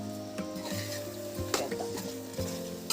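Chicken sizzles in a pan for a gongura chicken pulao, with a few sharp spoon scrapes and clanks against the pan as it is stirred over a short, moderately quiet stretch, no talk.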